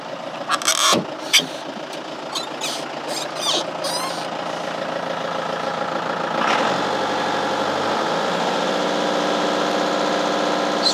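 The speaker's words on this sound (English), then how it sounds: "I'm going to rev it a bit again and see what it goes up to." A vehicle engine starts with a few sharp clatters, then settles and is revved, its steady droning note rising and holding before dropping back to a lower idle.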